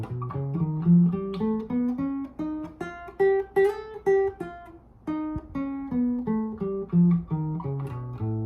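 A guitar plucks a rising and falling whole-tone scale, evenly spaced notes with a dreamy, floating quality, played clearly and alone at moderate volume.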